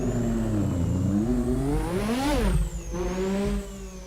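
A 1988 McLaren MP4/4 turbo Formula 1 car in Assetto Corsa revs hard, its engine note climbing through the gears and dropping briefly on each shift, loud and close with a thin high whine over the top and no talking.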